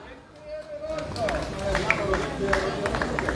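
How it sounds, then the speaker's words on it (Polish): Audience applause at a town festival, Koziegłowy's town and commune days, with scattered claps building into steady clapping from a crowd, murmuring voices underneath and an amplified announcer speaking over it. "Wielkie, wielkie brawa!"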